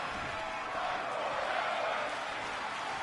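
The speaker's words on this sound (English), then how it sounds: "This crowd in Virginia is yelling, fight forever" A wrestling crowd at a Virginia event yelling and chanting in unison, a broad steady roar of many voices filling the whole moment without a break.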